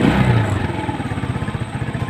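Cheap Rusi motorcycle engine idling in neutral after running through the gears, a steady close mid-pitched putter with a regular pulsing rhythm, slightly louder at the start.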